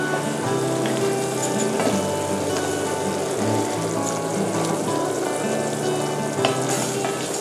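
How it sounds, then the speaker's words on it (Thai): Coconut milk sizzles and fries with green curry paste in a hot pan for green curry with chicken, a steady loud bubbling hiss with faint stirring scrapes throughout, no talk. "ผมจะลงกะทิลงไปผัดให้มันแตกมันแล้วลงไปทีละน้อยนะฮะ"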